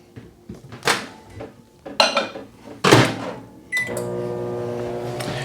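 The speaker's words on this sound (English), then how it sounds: "let me just put this in the microwave for a couple of seconds" Clattering and clinking of dishes and a door thunk lead into a microwave oven starting up and running with a steady hum, used to melt candle wax in a container.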